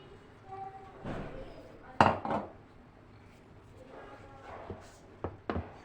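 Several metallic clanks and knocks of a cooking pot being handled, a sharp clatter early on, then lighter taps, with faint talk in between.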